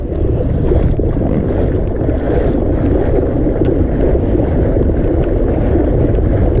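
Wind roars steadily across open water aboard a fishing boat, a loud, continuous low rumble of buffeting against the microphone with faint splashing and no speech.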